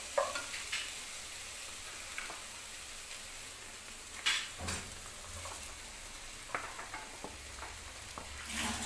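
Boiled peas are stirred into onion frying in a pan, with a steady sizzle and occasional scrapes and clinks of the spoon against the pan, close and continuous with no talking.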